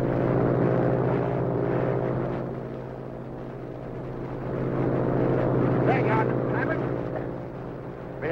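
An airplane flying by remote control in a 1941 film gives a steady, moderately loud engine drone throughout, under people talking.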